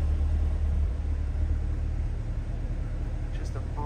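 A red 2020 Chevrolet Corvette C8 coupe idles nearby with a deep, steady low rumble, holding an even, moderately loud level throughout.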